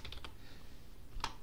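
Quick typing on a computer keyboard into a Windows search box, a short cluster of three or four close key clicks followed by a pause and then one sharper keystroke, faint and with no talking.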